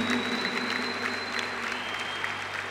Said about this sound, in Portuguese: Vamos aplaudir, gente?